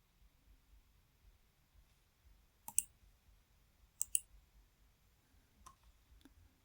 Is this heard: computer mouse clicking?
yes